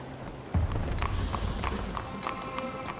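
Horse hooves clip-clop at a steady walking rhythm in a Sherlock Holmes video game street scene, a run of soft regular taps over a low ambient game backdrop.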